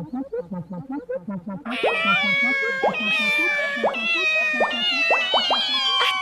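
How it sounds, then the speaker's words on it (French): A cat meows several times in quick succession, high and insistent, over a bouncy music backing with plucked, springy notes. "Un petit chat."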